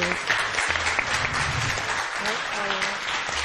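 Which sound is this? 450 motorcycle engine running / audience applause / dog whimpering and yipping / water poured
audience applause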